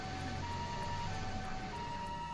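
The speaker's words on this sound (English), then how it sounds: "Were those ambulances just now?" Ambulance sirens in The Legend of Heroes: Trails to Azure video game wail steadily at low volume with a faint mechanical hum beneath, no voices.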